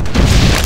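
A grenade blast in the video game Septerra Core: one short, loud, deep boom with a broad burst of noise filling the moment.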